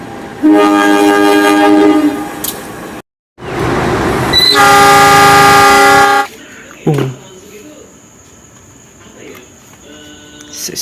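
CC 201 locomotive passing with train cars, loud rumbling broken by blaring horn blasts, then quieter rail noise and clanks; voices speak over it.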